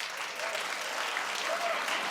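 A crowd applauds with dense, even clapping that holds steady throughout.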